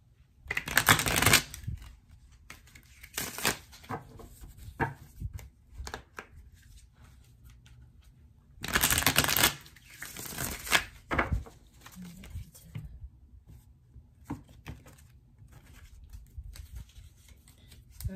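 A deck of tarot cards is shuffled close up in several sharp riffling bursts, with quieter card handling and soft taps in between.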